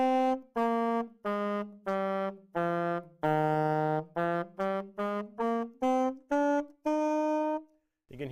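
A string of about a dozen short saxophone notes, each tongued with a harsh burst at its start, played one after another with brief gaps, mostly in the low-middle range with a longer held tone near the middle.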